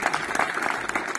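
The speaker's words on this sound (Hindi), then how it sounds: "उनके लिए ताली बजाइए।" A crowd at a public welcome event claps for the Prime Minister, dense steady applause close and loud throughout the short stretch.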